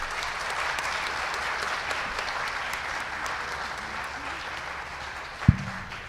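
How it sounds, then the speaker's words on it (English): An audience at an entrepreneurship panel applauds the panelists: steady, moderately distant clapping that carries evenly throughout, ending with a single sharp knock near the close. "Let's give our panelists a round of applause."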